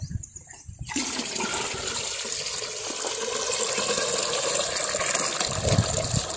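A pot of water is dumped out in a farm field, starting with a brief quiet moment and then a loud continuous rushing gush that carries on steadily to the end, close by with no voices.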